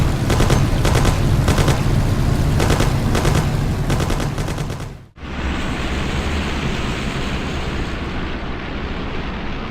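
Rapid bursts of gunfire ring out in a Mafia video game cutscene, loud and close, a rattling volley that cuts off abruptly before giving way to a steady roaring rumble.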